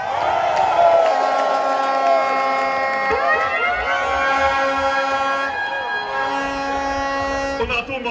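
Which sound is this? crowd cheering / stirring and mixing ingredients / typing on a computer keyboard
crowd cheering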